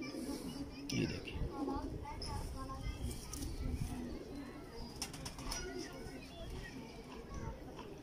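Pigeons coo softly in the background of a loft while someone talks throughout and children can be heard faintly nearby.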